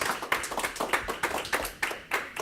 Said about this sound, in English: I'd like for everybody to give a round of applause for Dr. Briggs.